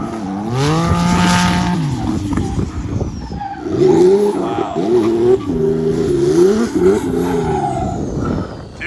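An 800 WHP Nissan 370Z engine revs and whines through shifting pitches while drifting, tires squealing in long sweeps, loud and close, with a brief quieter gap midway.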